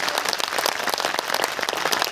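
An audience claps after a poem recitation, a dense, steady burst of applause from many hands throughout, fairly loud and close.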